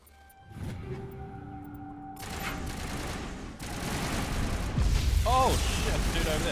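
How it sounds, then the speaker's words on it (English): Distant, sustained gunfire in Mass Effect Legendary Edition, a steady crackling rattle of weapons under game ambience that grows slightly louder toward the end, with a few sharp electronic chirps. "I thought it was weird I could hear still gunfire here."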